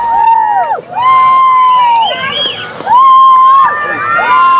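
Large, enthusiastic evening crowd at a hot air balloon festival, cheering loudly and continuously with shouts and whoops that swell and dip over several seconds, children's voices mixed in.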